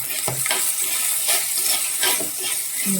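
Green chillies frying in a pan for a chilli curry, a steady close sizzle and crackle with a few light stirring scrapes, no voices.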